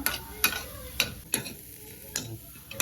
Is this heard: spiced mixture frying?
yes